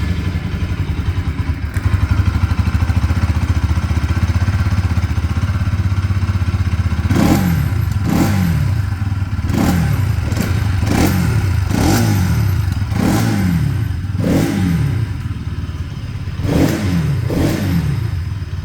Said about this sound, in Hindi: आप पहले NS 200 की एग्जॉस्ट नोट